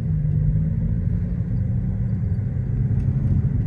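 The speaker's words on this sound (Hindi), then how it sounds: "आज क्या ऑफ रोडिंग कराई है भाई गाड़ी, बारिश का मौसम है," A car off-roading through deep mud in the rainy season, its engine giving a steady low rumble that stays loud and close throughout with no talk.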